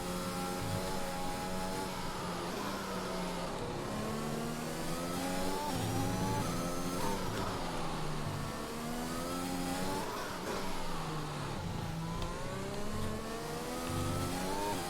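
A damaged Formula 1 car races around the Spanish Grand Prix circuit in the video game F1 2021, its engine screaming continuously and loudly, rising and falling in pitch as it revs through the gears, with no talk.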